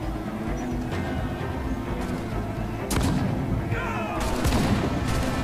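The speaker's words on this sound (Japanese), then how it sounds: "あ、これ大砲だ、大砲。" Ship cannons fire in the pirate game Assassin's Creed IV Black Flag, with several sharp booms over a dense rumbling battle backdrop, the blasts growing louder toward the end.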